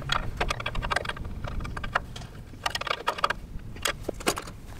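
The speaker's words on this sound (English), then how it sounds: "Now I'm gonna tighten this jamming nut down here and get it as tight as I can with the adjustable wrench." A steel adjustable wrench clicks and clinks in quick irregular bursts while a jam nut is tightened on a mini excavator, close up and fairly quiet, with no talking.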